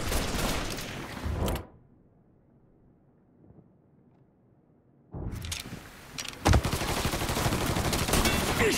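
Gunfire erupts in the video game Mafia 3: loud, dense bursts of shots fill the opening moments, then a near-silent gap, then a renewed sustained barrage with sharp cracks over continuous rumble.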